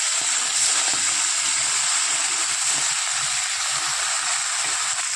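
Fish frying in a pan of hot oil gives a constant loud hissing sizzle, steady and close, with no talking.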